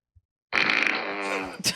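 A person blows a drawn-out mouth-made fart imitation, a buzzy raspberry lasting about a second after a brief pause, close and fairly loud.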